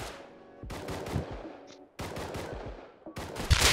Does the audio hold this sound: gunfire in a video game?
yes